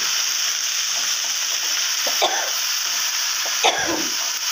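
Leafy greens fry in a hot pan while being stirred, a loud, constant sizzle with occasional scraping strokes of the spoon, steady throughout with no talk.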